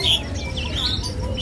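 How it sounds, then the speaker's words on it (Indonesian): A tame bush lark sings in bright, high warbling phrases close by, sliding chirps repeating over a low background hum and murmur. "Udah mulai bunyi tuh beranjangannya tuh"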